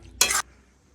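A single short stir of Chettinad chicken in a pan, one quick scraping swish of a spoon through the curry, close and brief, followed by quiet.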